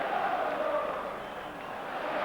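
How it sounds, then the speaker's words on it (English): Capacity crowd at a Rangers football match in 1993, a dense, continuous roar of applause and murmur filling the stadium, steady and loud throughout with no clear break. "Every good pass from a Rangers player bringing applause from a capacity crowd."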